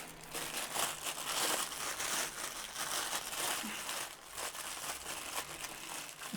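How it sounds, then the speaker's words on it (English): A camera lens hood for a Panasonic Leica 9mm f1.7 Summilux rustling and crinkling inside a plastic bag, a continuous close, soft crackle with brief crisp bursts. "Which is very well forced into a plastic bag now."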